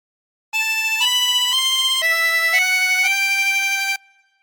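A phrase of the Star Spangled Banner played on a chromatic harmonica, a string of sustained reedy notes stepping up and down in pitch for about three and a half seconds, clear and close with no talking.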